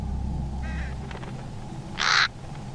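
Caws from a crow-like bird in the horror game All Is Dust: a short harsh call early on, then a louder, brighter burst near the end, over a steady low rumbling game ambience.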